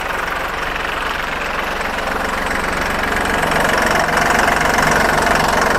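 A used Iseki NT540 four-wheel-drive tractor's three-cylinder, 40-horsepower diesel runs steadily up close, a continuous knocking idle that grows slightly louder toward the end, with no talk over it.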